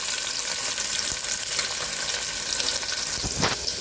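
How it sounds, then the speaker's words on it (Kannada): Chopped onions frying in hot oil make a loud, dense, continuous sizzle close up, with a few brief stirring scrapes near the end. "ಆಯಿಲ್ ಬಿಸಿ ಆದ ನಂತರ ಕಟ್ ಮಾಡಿಟ್ಟಿರೋ ಈರುಳ್ಳಿ ಹಾಕ್ಕೊತಾ ಇದ್ದೀನಿ"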